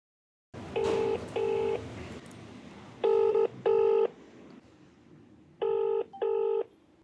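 A telephone call rings out in three pairs of electronic ring bursts, clear and fairly close, with quiet line hiss between them.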